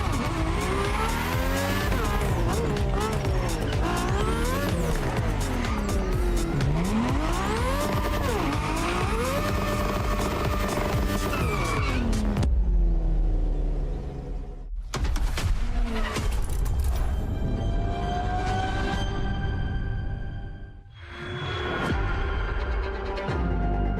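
A car in The Crew: Motorfest drives toward the main building of the Ferrari Museums, its engine revving loudly with shifting pitch and tires squealing, then briefly dropping away before surging again.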